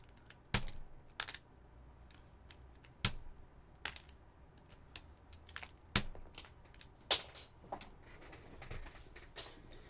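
Keycaps being pulled off a Topre keyboard, giving sharp plastic clicks and taps scattered irregularly over soft handling rustle, close and fairly quiet, with no talk.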